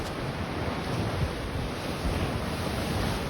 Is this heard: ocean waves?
yes